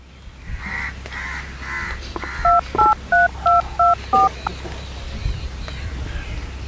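A phone number is punched in to call the pandit: six or seven evenly spaced keypad tones beep in quick succession, with faint birds cawing in the background.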